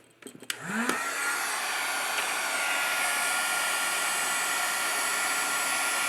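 After a few handling clicks, a heat tool switches on and blows a steady, loud whirring roar to heat-set alcohol ink on a card. The sound holds unbroken to the end with no talk.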